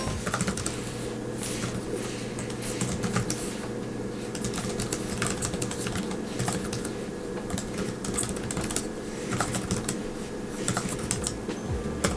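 Steady rapid typing on the Boox Tab Ultra e-ink tablet's keyboard case, a continuous stream of close, crisp plastic key clicks with no pauses throughout.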